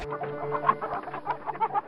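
Chickens cluck in short, repeated bursts close by, a busy chatter of several birds without any talking.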